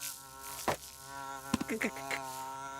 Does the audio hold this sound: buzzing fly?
yes